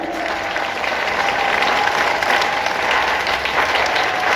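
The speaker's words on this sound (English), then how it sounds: "let us all join our hands and give them good round of applause to them." Steady, dense applause from a school audience at a prize distribution at St. Teresa Higher Primary School, loud and continuous throughout with no voices over it.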